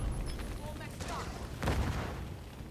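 Mortar blasts and gunfire in the video game The Division 2, booming bursts rumbling under a voice talking, with a heavy impact near the middle.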